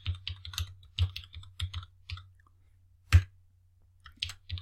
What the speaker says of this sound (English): So I'm going to type change slide layout,